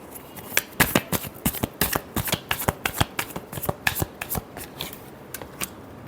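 A deck of tarot cards is shuffled by hand close up, giving a quick run of crisp flicks and riffles in uneven bursts with no talking.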